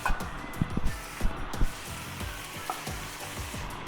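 Beef, onions and peppers sizzle in a frying pan for a Philly cheesesteak sandwich, a steady close crackle with scattered sharper pops and spatters, no voices.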